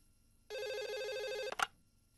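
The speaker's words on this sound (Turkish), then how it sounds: "Açsana telefonu." A telephone rings once with a steady warbling electronic tone lasting about a second, then stops with a clatter as the receiver is picked up, in a quiet room.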